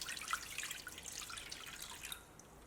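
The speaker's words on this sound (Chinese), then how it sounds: "再加入适量的清水" Water pours into a pot already holding jujubes, ginger and brown sugar for tea, a faint, soft trickle and splash that fades out near the end.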